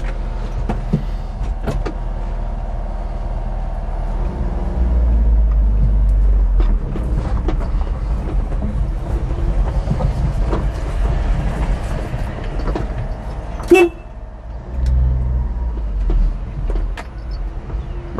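A Honda Acty HA3 2WD kei truck driving, steady low engine drone and road rumble from the cabin with scattered rattles and clicks, a sharp knock midway and the engine revving again afterward.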